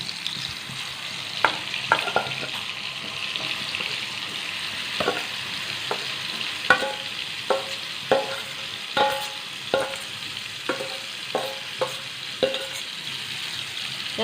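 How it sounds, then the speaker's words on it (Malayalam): Potatoes fry in hot oil for a potato omelet, a steady close sizzle broken by repeated soft clicks of stirring, with no voices. "അതിലേക്ക് നമുക്ക് നമ്മളിവിടെ എടുത്തു വെച്ചിരുന്ന ഉരുളൻകിഴങ്ങ് ചേർത്ത് കൊടുക്കാം."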